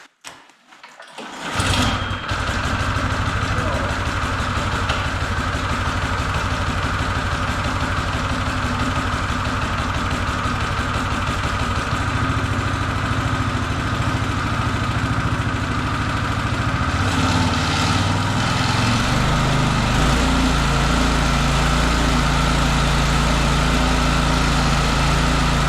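A Honda-type 5.5–6.5 hp snow blower engine is pull-started in mild weather, catching after a second and then idling with a loud, steady chugging rhythm at close range, the tone dropping slightly near the end.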